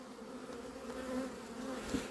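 Honey bees at a hive buzz in a steady, soft drone, a dense hum of many insects close by with no voices.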